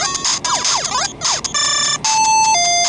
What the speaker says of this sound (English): Sometimes when you get hit, you get that alarm